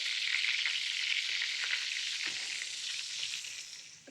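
Lamb with garlic and cake flour frying in a pan, a steady, bright sizzle with soft stirring scrapes, close by, easing off slightly toward the end, with no talk over it.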